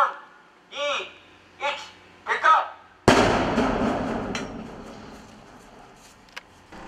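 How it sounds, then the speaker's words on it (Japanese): Several short spoken phrases, then a sudden deep, booming blast of 60 sticks of dynamite in a tunnel under construction, rolling and rumbling for a few seconds before fading into a low roar. "ドーンという爆発が地響きとともに起こりました"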